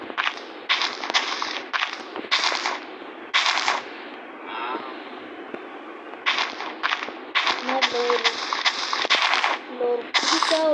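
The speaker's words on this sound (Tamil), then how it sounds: "எப்படி வெடிக்குதுன்னு பார்க்குறோம்" TNT charges go off in a rapid series of loud, sharp bursts, cracking one after another in clusters with short gaps between volleys.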